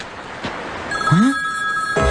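Telephone ringing after a call is placed during a tense office confrontation, a bright electronic ring tone sounding out after a brief swooping tone, fairly loud and close over room noise.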